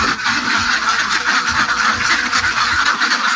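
Many ducks on a Bangladeshi egg-laying duck farm quack together in a dense, continuous chorus, loud and close, with no pauses across the stretch.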